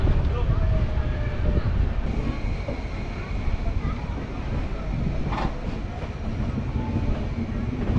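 Loud, continuous rumble of the Gyaneshwari Express passenger train running on tracks, with rattling carriages and a brief squeal, heard from inside.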